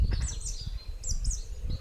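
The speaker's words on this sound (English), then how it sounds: "there's a beautiful song thrush that sits at the top of the tree and just sings its heart out" A song thrush sings from a treetop at a water point, short bright repeated phrases rising out of a quiet rumbling background, moderately distant and fairly faint.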